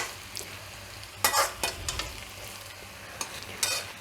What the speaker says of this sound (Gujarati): આ રીતે બધું મિક્સ કરી લેવાનું